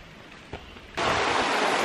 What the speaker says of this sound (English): Well, there's part of the waterfall.